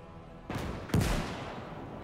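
A Czech machine gun fires in the World War II game Gates of Hell: Ostfront: two heavy, close shots half a second apart, each trailing off in a rumbling echo.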